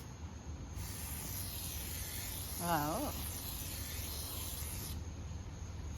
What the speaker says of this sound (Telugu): డబ్ల్యూడి ఫార్టీ రిస్టోర్ ఏంది గ్లాస్ ఓ హెడ్లైట్ రిస్టోరు స్ప్రేనా